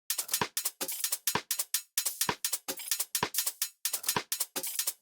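Isolated hi-hat pattern from a Future Garage remix, crisp bright ticks in a shuffling, swung groove with uneven accents, dry and up front with no other instruments.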